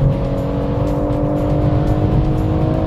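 A performance car's engine pulls hard under acceleration on a race track, a loud, steady, droning rise with no talking over it.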